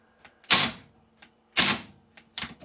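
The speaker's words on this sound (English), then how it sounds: "We will once again drive screws with it just to see what they do." Makita impact driver on its first bolt setting driving a screw, giving three sharp, loud hammering bursts about a second apart with faint clicks between, close up.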